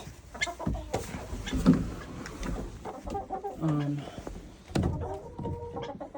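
At night in a backyard coop, chickens give soft clucks and short murmured calls close by while a person talks over them.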